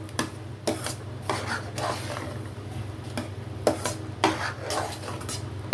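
A spoon stirs sweet pongal in a metal pan with repeated scraping and clinking strokes at an uneven rhythm, close and clear over a low background hum.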